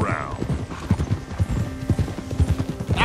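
Hooves clip-clop in quick rhythmic steps from a horse in the video game Red Dead Redemption 2, fairly close, with brief horse whinny-like sounds at the start and end.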